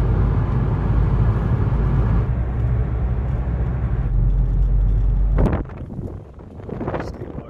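Car driving toward a skatepark, a steady loud low rumble of road and engine noise with wind buffeting the microphone, ending in a sudden drop to quieter cabin sounds with some movement.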